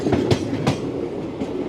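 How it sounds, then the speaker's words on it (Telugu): The Tungabhadra Express runs on the tracks between Secunderabad and Kurnool, heard as a steady loud rumble from inside the train with rhythmic clickety-clack wheel beats on the rails. "మన ట్రైన్ అయితే స్ట్రైట్ వెళ్తుంది"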